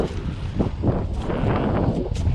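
Light wind sweeps across an open rapeseed field, producing a steady, fairly loud rushing and buffeting against the microphone with no voices.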